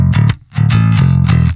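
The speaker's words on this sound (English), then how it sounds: "Just a clanky piano wire like bass tone" Bass guitar played through a 10-inch bass speaker with a clanky, piano-wire-like tone and some distortion, three sustained punchy notes close and loud with no talk.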